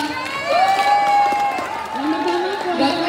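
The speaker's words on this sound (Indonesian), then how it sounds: "Beri tepuk tangan untuk Gafra" An audience at a live podcast recording breaks into applause mixed with cheering and excited shouting, a loud, close burst of clapping and voices that swells and holds.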